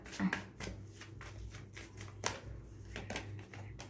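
Tarot cards are shuffled and drawn by hand, giving a series of quick riffling flicks and soft slaps at an uneven rhythm, close and fairly quiet.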